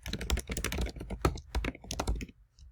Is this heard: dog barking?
no